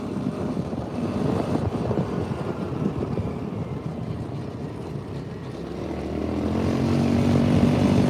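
A Polaris RZR 200 side-by-side engine held at full throttle outdoors, a steady loud droning roar with rough texture that swells louder toward the end, no talking over it.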